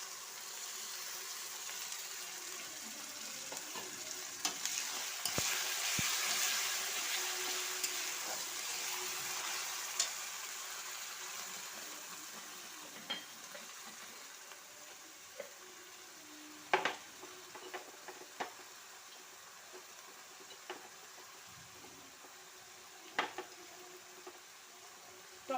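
Tomato paste sizzling in a pan with spices while cooking desi chicken curry: a soft, steady frying hiss, with occasional scrapes and clinks of the spoon stirring, fairly quiet and without talk.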